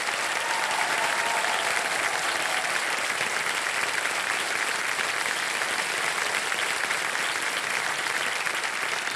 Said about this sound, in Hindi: ताली बजती रहे शुक्रिया के लिए।